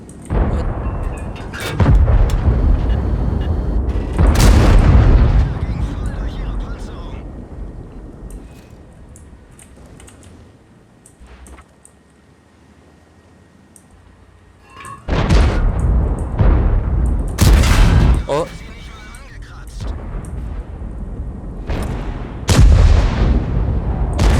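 Gunfire and artillery explosions in World of Tanks, heavy booming cannon blasts in separate bursts, loud and close, a quieter rumbling stretch in the middle, then more blasts and impacts later, with no talk.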